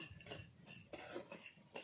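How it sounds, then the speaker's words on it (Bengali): Fried vegetables with raisins and peanuts are stirred in a pan, giving soft, close scraping and clinks of a spoon against the metal, quiet and alone. "সবজির সঙ্গে ভালোভাবে মিশিয়ে নেব"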